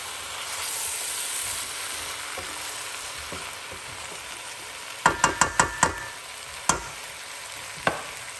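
Curry aubergine stirred and sizzling in a frying pan, a steady frying hiss throughout with a quick run of sharp utensil scrapes and knocks against the pan near the end.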